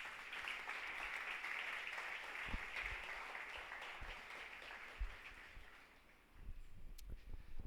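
Steady applause from a church congregation, sustained and fairly even, with a few louder claps standing out before it tapers and swells again near the end.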